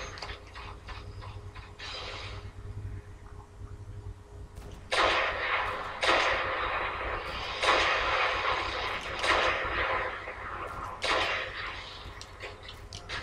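Sniper rifle fire during a Destiny nightfall strike, a series of loud sharp cracks with ringing tails spaced over several seconds, set against a steady low hum and ticking mechanical game sounds.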